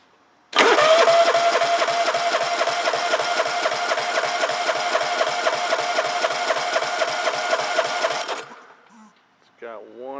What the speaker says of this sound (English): John Deere LX172 Kawasaki 14 horsepower engine. We're going to do an engine compression test.